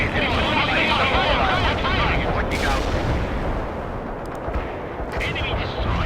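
Mortars fire in the World in Conflict strategy game, a dense, loud barrage of booming blasts and rumbling explosions that continues without a break through a chaotic battle din.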